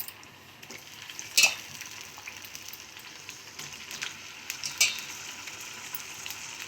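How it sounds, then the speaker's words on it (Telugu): Raw banana slices frying in hot oil for a Telugu-style fry, giving a soft, steady sizzle with a couple of brief sharper pops or clinks. No one speaks over it. "ఇట్లా నూనెలో ఒక్కటి ఒక్కటి ఒక్కటి వేసేసుకొని బాగా వేగేలాగా చూసుకోవాలి"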